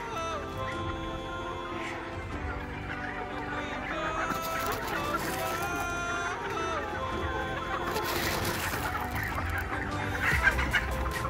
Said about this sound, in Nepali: अब के नै भेटौँला जति कुदेर आउँदैछन् कुखुराहरू।